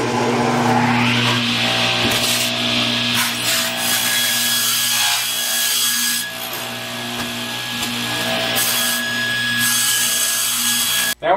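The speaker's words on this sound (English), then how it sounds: "cutting the corners off with the table saw so that it will fit" A table saw trims the corners off wooden lathe blanks with a loud, sustained whine and cutting rasp that dips briefly partway through, heard close up and alone, ending with a short clunk.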